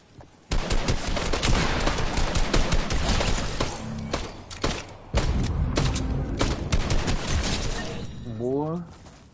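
Rapid gunfire from the video game Fortnite, dense bursts of shots and thuds running almost continuously at close range, with a voice talking over the action.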